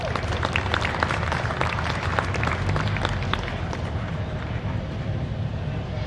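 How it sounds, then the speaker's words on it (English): A crowd at the Ironstone Concours d'Elegance car show claps outdoors, with sharp individual hand claps over a rumbling background that thin out and fade after a few seconds. "Big round of applause."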